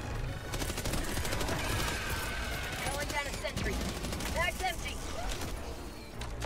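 Rapid turret gunfire rattles through a hectic co-op shooter match against bile spewers and chargers, a dense, loud, continuous burst of shots layered with combat effects and creature noises while players talk over it.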